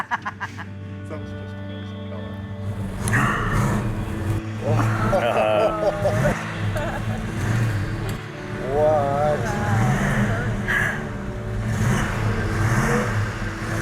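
A Road Runner car's engine idles with a deep, steady rumble, while people talk excitedly over it throughout.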